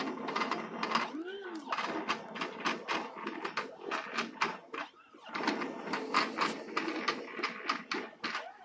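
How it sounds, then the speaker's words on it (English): A Cuyi CTO 630 cutter plotter marks pattern lines on dark transfer paper, giving a fast run of clicks and ticks with short whirring carriage moves. It sounds near and moderately quiet, with no voices. "The cutter will now mark the lines of the pattern you made."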